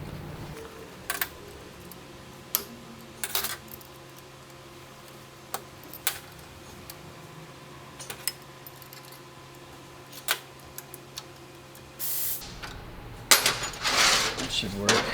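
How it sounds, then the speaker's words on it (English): Wrench clicks and metallic clinks while breaking loose over-tightened foot peg bolts on a Harley-Davidson M8 Softail, sharp isolated taps spread across the clip, with a louder rattling burst near the end. "Got the foot peg bolts a little too tight on the other side, so I'm going to break those loose real quick."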